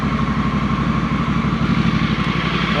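Honda Africa Twin 1100 motorcycle with an HpCorse SP1 exhaust idling close by, a steady, even low rumbling throb with no revving.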